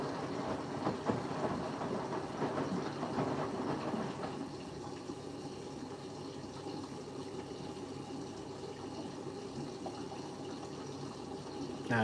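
A Siemens washing machine runs a rinse with extra water, giving a steady rushing wash of water, louder at first then settling into a continuous even churn, close and without talk.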